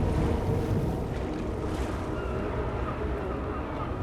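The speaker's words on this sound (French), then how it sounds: "La tempête avait duré 3 jours. C'était exceptionnel en Floride. Les vagues balayaient les côtes," Storm waves and gusting wind batter the Florida coast, a steady loud roar of surf and wind noise throughout with no voices.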